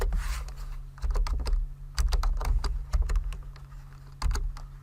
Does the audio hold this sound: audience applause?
no